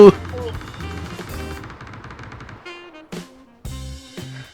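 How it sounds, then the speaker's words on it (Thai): Gunfire from tanks in a PUBG battle: sharp broadband bursts at the start and again near the end, over busy game sound. "มึงเห็นไหมนะรถถังยิงกันอยู่นั่นน่ะ"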